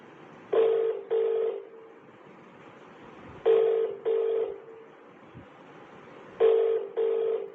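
A phone call's ringback tone plays three times, each a close, clear double ring followed by a pause, over a faint background hum.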